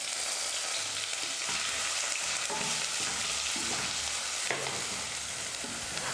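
Curry leaves and chopped onions sizzle and crackle steadily in hot oil in a pan, a close, continuous frying hiss with occasional stirring scrapes, with no voices.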